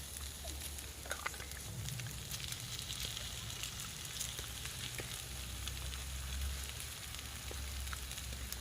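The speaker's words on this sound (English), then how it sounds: "Right, it's time we add the sauce." Sizzling from soy-type sauce poured into a hot pan in a hot tent at a winter woodland camp; a steady, fairly quiet broadband hiss runs throughout with a low background hum.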